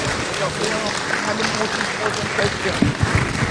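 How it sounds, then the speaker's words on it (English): A conference crowd applauds its panelists at the 10th Jamaica Diaspora Conference, with dense, continuous clapping filling the hall at a fairly loud, even level. "Can we give them a round of applause?"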